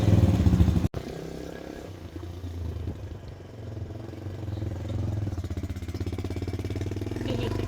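A motorcycle rides along a dusty road, its engine giving a steady, close throb that grows into a quicker, pulsing putter toward the end.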